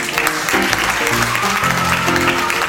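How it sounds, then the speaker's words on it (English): Modest applause from a studio audience opening a comedy talk show, steady clapping filling the room at close range while a faint voice and tonal sounds sit underneath. "Ladies and gentlemen, that modest applause can only mean one thing"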